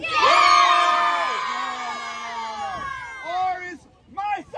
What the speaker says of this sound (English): Cub Scouts! I want you to cheer for the side you think is going to win